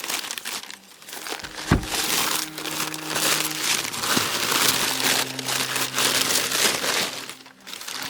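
Paper wrapping crinkled and pulled off a wooden yarn winder, dense close crumpling and rustling throughout with a sharp knock early on.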